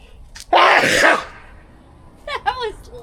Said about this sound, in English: Yeah, that's my sneeze.